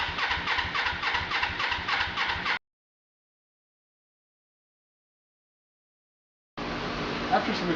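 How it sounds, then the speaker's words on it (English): A Suzuki GS500 motorcycle engine cranks with a rhythmic, chugging starter whir, falls silent for a few seconds after a carburetor jet cleaning, then cranks again at close range. "It's probably going to take some cranking to get the bike started."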